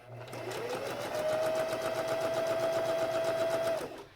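Close sewing machine running steadily, a fast rhythmic stitching whir that speeds up, holds an even pace for several seconds, then stops.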